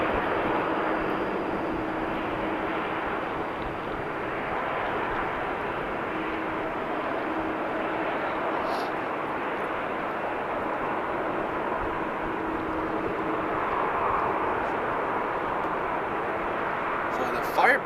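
A Kenya Airways airliner docks at Schiphol Airport under a broad, steady engine roar and jet hum that fills the whole stretch, with a faint voice in the background.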